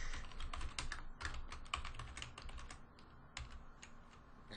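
Rapid typing on a computer keyboard while programming: close, crisp key clicks in quick irregular bursts with brief pauses between runs, fairly quiet and with no voice over it.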